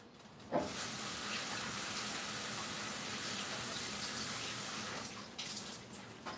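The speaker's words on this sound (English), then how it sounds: "I'm going to wash them." Running tap water splashing steadily onto pieces of vegetable being rinsed in a kitchen sink, a loud continuous hiss that starts abruptly and then tapers off near the end.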